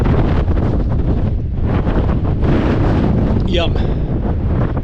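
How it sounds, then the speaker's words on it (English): Strong wind buffets a tent pitched on Mill Hill near Kinder Scout in the Peak District, a loud continuous roar and flapping that hardly lets up. A person speaks briefly over it. "it's still windy woo outside"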